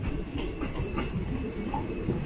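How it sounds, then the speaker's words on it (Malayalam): The Karwar–Yesvantpur Day Express rolls past close by at a station, a steady heavy rumble of wheels and carriages with faint metallic squeal that continues without a break. "കാർവാർ യശ്വന്ത്പൂർ ഡേ എക്സ്പ്രസ് ആണിത്."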